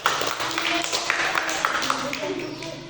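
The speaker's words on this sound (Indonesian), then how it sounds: "Semua tepuk tangan buat Torres dulu." Fifth-grade elementary classmates clapping for a student during a science lesson, a lively scattered patter of small hands with some voices mixed in, tapering slightly toward the end.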